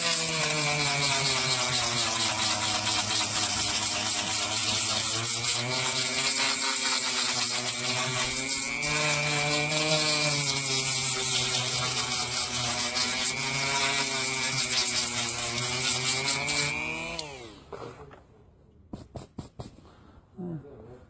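A Dremel rotary tool runs at high speed against clothing as it is distressed, a loud steady whine with a shifting pitch that lasts about seventeen seconds, then spins down and stops, leaving a few faint clicks.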